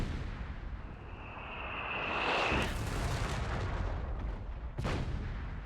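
Heavy mortar and leIG infantry gun firing in the strategy game Company of Heroes 3, a rising whistle followed by rumbling booming impacts and a sharp later blast, loud and continuous.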